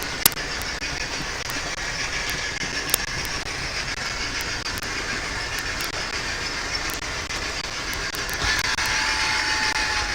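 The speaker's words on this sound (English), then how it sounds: "Are the sounds of the trains too loud?" Trains rumble past continuously with a steady, fairly loud rolling roar and scattered clicks and clacks from the rail cars, growing a bit louder toward the end; no one speaks.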